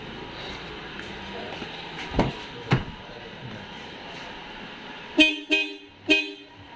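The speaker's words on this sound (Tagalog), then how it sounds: "So malakas na. Dalawa na yung busina ulit." Horns on a Hyundai Grand Starex van, a replacement Blaupunkt pair, honk: two short beeps, then a quick burst of three loud toots, over low outdoor background noise.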